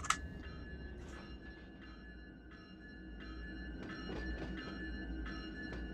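Diesel locomotive rumble from an SD70 and a GE GEVO in the Run8 train simulator, a steady low engine drone with tonal whine and intermittent clanks and bell-like dings during West Colton yard operations, no talking.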